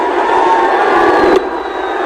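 Large crowd at a cricket stadium during an India versus South Africa one-day international roars and cheers as the ball is hit for six, a loud, sustained wall of sound that drops slightly near the end.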